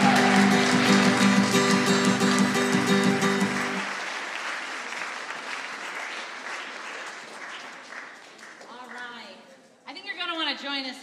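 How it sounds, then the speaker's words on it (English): Congregation at a worship service claps for OWL graduates as an organ-like sustained chord rings out, then the applause thins and fades. Afterward a few voices speak briefly. "feel free to give another round of applause to these OWL graduates"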